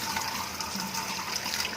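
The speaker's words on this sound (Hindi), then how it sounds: "अब इसको खुले पानी से ठंडा कर लेंगे ताकि इसकी कुकिंग रुक जाए।" Cooked spinach being cooled under a running kitchen tap, a steady close splash and gush of water with no speech.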